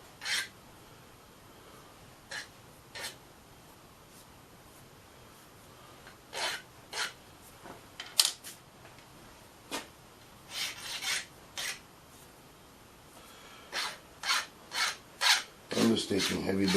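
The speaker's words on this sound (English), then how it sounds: "I'm just taking heavy burrs off because at the end product I can't leave any fire marks." A hand file rasps heavy burrs off a machined aluminum part in short, separate strokes, close and crisp, with irregular pauses that come quicker toward the end.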